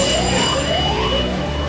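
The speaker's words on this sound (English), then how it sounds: "And then they get the alarm, radiation in the control room." Radiation alarm in the Three Mile Island nuclear power plant control room, a loud, continuous ringing alarm tone with a repeating sweeping pitch, close and sustained over a busy background with no clear speech.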